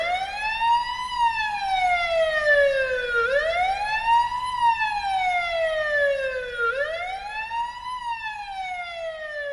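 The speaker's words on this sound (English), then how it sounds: "fire engine or a police car" A fire engine or police car siren wails steadily, rising and falling in a slow repeating cycle of about three seconds, loud and continuous with a faint road rumble beneath.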